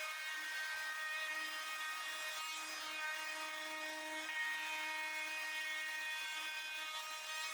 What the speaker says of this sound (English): I'm using my handheld router to chamfer the edges.